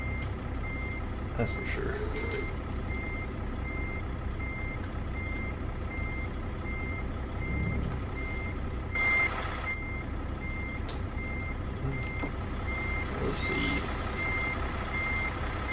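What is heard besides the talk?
truck backup beeper (reversing alarm)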